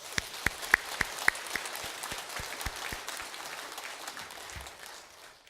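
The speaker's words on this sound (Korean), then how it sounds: "우리 하나님께는 영광의 박수를, 찬양대 위에는 우리 격려의 박수를 함께 돌리시겠습니다" A church congregation claps after the choir's hymn, a thin run of evenly spaced claps at first, then a soft diffuse patter of applause that fades toward the end, with no voices over it.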